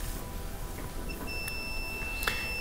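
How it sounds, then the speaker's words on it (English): A multimeter gives a thin, high continuity beep steadily for about a second and a half over a faint background hum, testing a part on a GE gas dryer. "I'm going to put my probes on there to see if I hear a beep"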